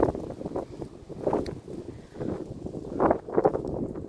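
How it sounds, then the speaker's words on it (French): Gusty storm wind in a village pummels the microphone in uneven bursts, rising and falling with low rumbling thumps, fairly faint overall. "Je sais pas si vous allez bien m'entendre avec le vent, mais ça souffle."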